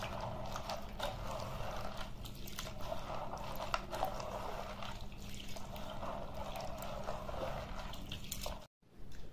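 Lentils (dal) being washed with water, a continuous close splashing and swishing with clicking grains and running water, no talking, breaking off near the end.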